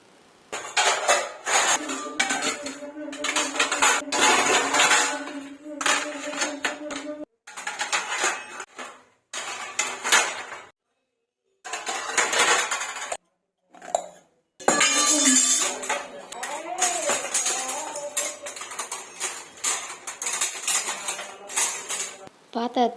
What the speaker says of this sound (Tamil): அந்த பாத்திரத்தெல்லாம் எடுத்து அடிக்கிடலாம் அப்படின்னு சொல்லிட்டு அதை எடுத்து அடுக்க ஆரம்பிச்சிட்டேன்